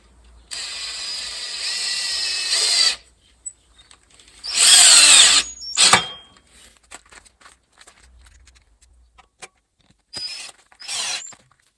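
Power drill driving black 6x30 screws into a wooden bench: a long steady whir, a louder second burst that ends in a straining stop, then faint clicks and one short final spin, close by with no voices.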